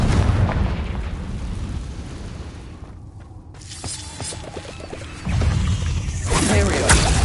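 Confringo fire spell blasting in Hogwarts Legacy inside a cave, a rumbling boom followed by crackling and a second loud burst.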